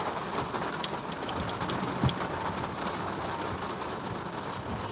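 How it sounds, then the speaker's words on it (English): Evening rain falls outdoors in Florida while the sun is still shining, making a steady, even hiss of drops with a single brief thud partway through. No voices are heard. "Yep, it's raining on my head."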